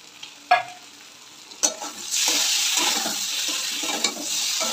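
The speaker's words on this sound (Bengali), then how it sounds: "এবার একটু আবার নাড়াচাড়া করে কষিয়ে নেব" Ground spice paste of cumin, coriander, ginger and chilli, with turmeric and salt, fries in a pan. A few sharp knocks from stirring are followed by a steady close sizzle.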